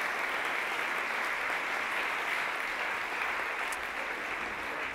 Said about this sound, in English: Another round of applause for a brilliant opening panel this afternoon.